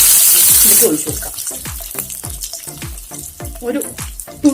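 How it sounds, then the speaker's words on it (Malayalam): Water poured into hot oil with popped mustard seeds and broken dried red chillies hisses loudly at first. It settles into a steady bubbling sizzle broken by repeated sharp crackles and pops. "എപ്പോഴും കടുക് വറുത്ത് കഴിഞ്ഞാൽ കുറച്ച് വെള്ളം ഒഴിക്കണം"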